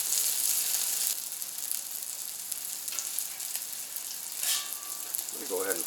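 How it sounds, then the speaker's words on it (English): French toast frying on a Camp Chef FTG600 flat top griddle gives a steady close hiss of sizzling, with a few brief scraping touches near the end. "Let's give a peek at our French toast."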